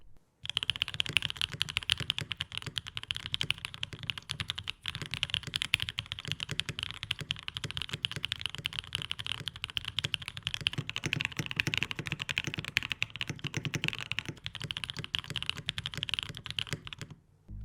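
Continuous clacky mechanical keyboard typing on an Aurora65 65% board with a carbon fiber plate and GMK keycaps, steady and close, with crisp bright keystrokes and no talking.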